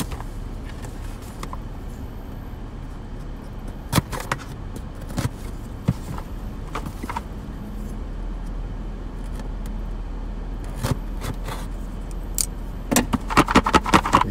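Small metal tobacco tins clatter and knock against each other in scattered bursts, with a denser rattle near the end over a steady low rumble.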